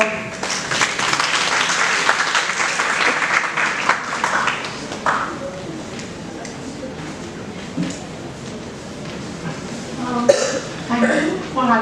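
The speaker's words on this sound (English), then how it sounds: "media professor, Ms. Pragya Mathur, with a big round of applause." An audience at an HR conclave gives a big round of applause welcoming the next speaker, a steady burst of clapping that fills the hall for several seconds, then thins out with a few coughs.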